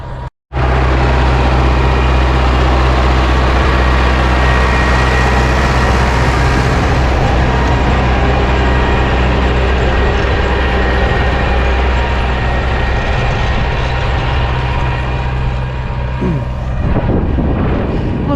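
An MTZ-80 tractor engine pulling a homemade cultivator through a soy field in spring runs loud and close in a steady, unbroken drone with heavy low rumble and no speech.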